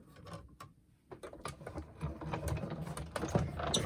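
A die cutting machine feeds paper through with a heart-shaped die: a few sharp clicks, a short pause, then a continuous grinding, ratcheting mechanical crank that grows louder near the end.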